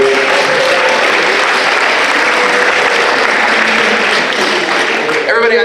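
An after-prom crowd at a high school event gives a sustained, loud round of applause, dense clapping throughout that fades slightly at the very end.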